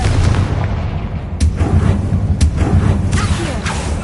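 Confringo blasting spell cast in the Hogwarts Legacy game, a series of sharp booming blasts, roughly four, over a low rumbling game background, each burst ringing out loud and close.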